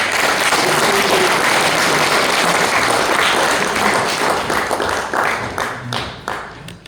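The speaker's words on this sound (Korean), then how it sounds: "격려의 박수를 보내주시기 바랍니다" Audience applause welcoming a lecturer at a fathers' school family talk, a dense, loud, sustained clapping from a large crowd that thins and tapers into scattered claps near the end.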